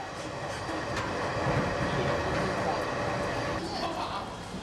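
A passenger train runs along the Beijing–Dandong line in China with a steady rumble and a rolling hum. Talk is heard over the continuous rail noise.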